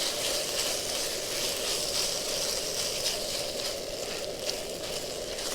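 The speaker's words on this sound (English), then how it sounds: "just keep stirring it around until it's all nice and warm" Food stirred and warmed in a pan on a Fox Cook Station camping stove, a steady close sizzle and hiss running throughout with no talk.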